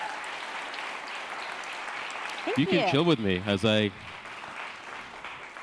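An audience claps at the close of a talk at a UX research conference. Steady applause fills the room, briefly ducks under a close voice speaking, then rises again and fades into the hall's murmur.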